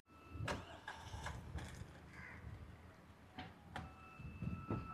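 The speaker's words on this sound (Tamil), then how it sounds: "இன்ஜின் ஸ்டார்ட் ஆகும்போது அது ஷேக் இருக்கும்." A 2024 Maruti Suzuki Dzire petrol engine cranks and catches with a slight shake, rough mechanical bursts and clunks over a noisy idle, fairly quiet and without speech.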